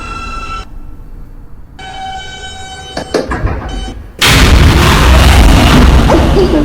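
An R160 J subway train bound for Broad Street runs through a station, starting with a tonal electronic whine, then clanks and door thuds, before a loud, broadband roar of the moving train takes over.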